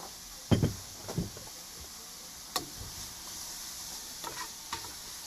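Zucchini noodles frying in olive oil with a little garlic, a faint sizzle broken by several brief stirring scrapes and clatters of a utensil in the pan.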